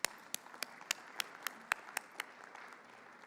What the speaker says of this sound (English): So let's give Pam a round of applause.